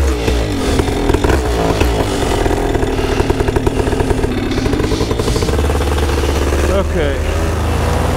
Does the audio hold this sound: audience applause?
no